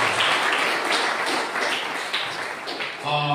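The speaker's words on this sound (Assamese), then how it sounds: "আমি জুনকে তালি বজাই ঈশ্বৰ ধন্যবাদ" A church congregation claps hands together in worship, a dense, steady patter of many palms close by that fades slightly before a sung tone enters at the end.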